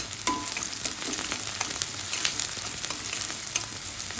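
Onion sautéed in a pan: a dense, continuous crackling sizzle up close, with faint light scrapes of a spoon now and then.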